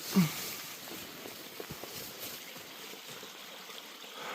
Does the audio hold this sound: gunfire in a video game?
no